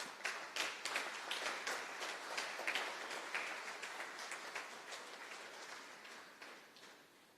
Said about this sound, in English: Please give them a round of applause for their hard work.